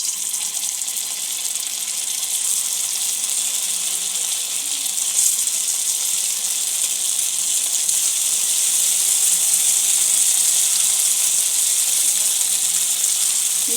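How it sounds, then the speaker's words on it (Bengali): Chhena fritters frying in white oil in a kadai, a steady bright hiss of bubbling oil that runs unbroken and close throughout, with no talk. "এবার এই বড়াগুলো আমি ভেজে নেব।"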